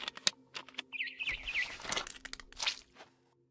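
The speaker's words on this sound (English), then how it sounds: "It was a barn swallow going back to her nest." A barn swallow in the video game What Remains of Edith Finch gives a quick run of high chirps, mixed with crunchy rustling and taps, close by before fading to quiet.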